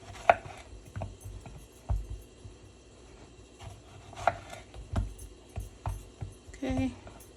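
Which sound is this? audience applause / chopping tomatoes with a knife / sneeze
chopping tomatoes with a knife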